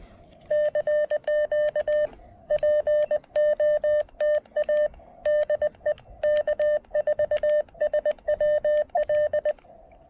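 Morse code CW signals from a ham radio contest, heard as clean steady keyed tones in rapid bursts of dots and dashes, grouped with short pauses between runs, no talk over them.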